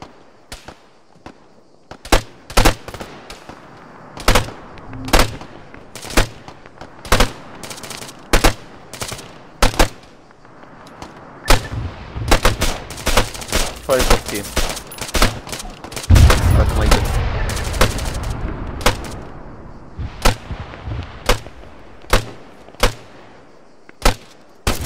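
Sniper-style gunfire in Arma 3 rings out as sharp, loud, isolated cracks at irregular intervals, thickening into a denser volley midway, with voices talking in between.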